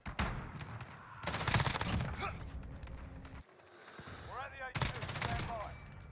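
Rapid bursts of M13 rifle fire in Modern Warfare, loud and close, in two main volleys with a brief lull between them, accompanied by faint speech.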